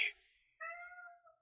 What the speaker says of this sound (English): It does not sound like a happy kitty.